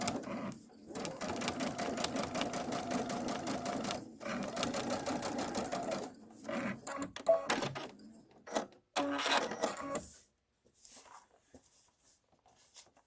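A domestic sewing machine stitches fabric, buzzing steadily in close, even runs for several seconds, then breaking into shorter stop-start bursts before falling quiet.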